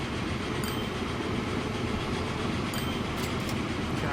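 A running train in the rail-management game Train Fever gives a steady, dense rumble of rolling stock with faint higher clicks, unbroken and fairly loud throughout with no voices.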